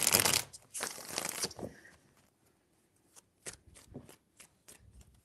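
Tarot cards are shuffled up close, with two loud riffling bursts followed by a string of quieter taps and soft card flicks.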